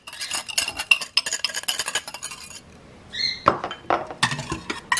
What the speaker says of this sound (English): And stir that all together